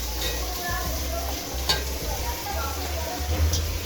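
Three quarters of a kilo of chicken goes into a hot pan with green chillies for Coimbatore seeraga samba chicken biryani, giving a continuous close sizzle over a low rumbling hum, with occasional sharper crackles.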